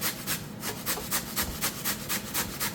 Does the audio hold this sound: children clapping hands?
no